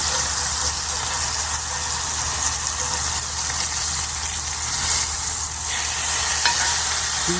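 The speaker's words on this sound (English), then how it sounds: "we're going to go ahead and flip it and just scrape it up" A smash burger is flipped and scraped on a charcoal- and wood-fired griddle, giving a loud, steady sizzle and frying hiss throughout with a few short metallic scrapes of the spatula and no talking.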